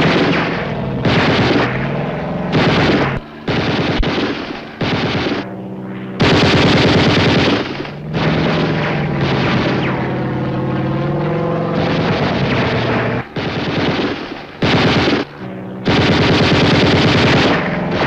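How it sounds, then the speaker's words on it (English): Rapid bursts of film gunfire, machine-gun rattles and shots in loud clusters separated by brief gaps, with a droning aircraft-like engine underneath, all without speech. "You're shooting real bullets."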